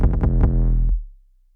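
Trap drop 808 bass played solo, a few quick punchy low hits followed by one sustained deep boom that cuts off and decays into silence.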